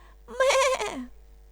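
A single goat bleats once, a short wavering cry lasting under a second, close and clear against a quiet background.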